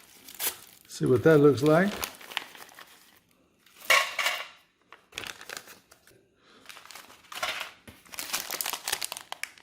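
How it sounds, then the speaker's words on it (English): Crinkly wrapper rustles and tears open around a Latvian military ration's berry candy, in short close bursts between stretches of someone talking. "First thing I want to open up is the berry candy."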